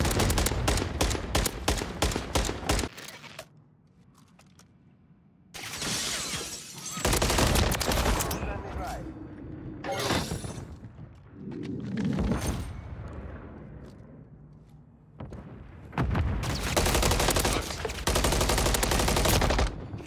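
Bursts of automatic gunfire from a first-person shooter video game played on keyboard and mouse, loud rapid volleys repeating in several strings separated by short quieter gaps.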